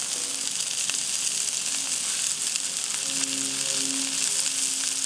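Poblano and tomatillo peppers sizzle and fry in hot oil in a pan, a steady, close crackling hiss with small pops scattered throughout.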